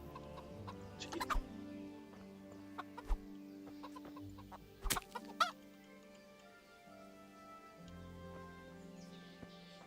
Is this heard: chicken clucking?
yes